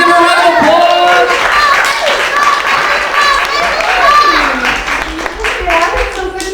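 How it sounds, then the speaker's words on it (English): An audience at a Christmas show applauds and claps to welcome Mrs. Claus. The sustained, loud clapping is mixed with voices calling out over it. "Give her a round of applause!"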